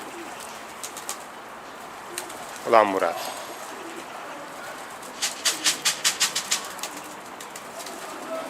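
Pigeons at a loft coo and flutter, with one low rolling coo rising then a run of short regular pulses near by, against steady background hiss while someone talks.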